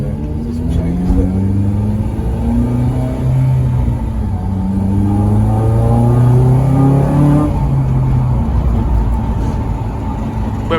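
Honda Civic Type R FN2 with a modified exhaust, driving on the road: a loud, steady engine drone that climbs in pitch through the gears, rising and easing over about ten seconds without any talk.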